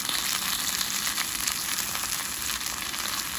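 Steak sizzles inside a Ninja grill, a close, loud, continuous hissing crackle that holds steady without pauses and has no voices over it.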